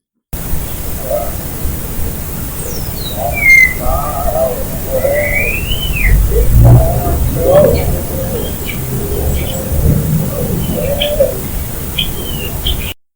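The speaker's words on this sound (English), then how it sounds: "I can't turn down the birds and you still be able to hear the man singing" Birds chirp and coo close by while a voice sings continuously beneath them at the 1858 Garnett House Hotel, the bird calls bright and scattered over the steady singing.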